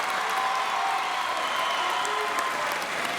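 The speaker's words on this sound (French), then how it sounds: "Mesdemoiselles, vous pouvez les applaudir bien fort" An audience at the Miss Oise 2021 pageant opening applauds the candidates with dense, continuous clapping that holds steady from start to finish, with a faint murmur of the crowd underneath.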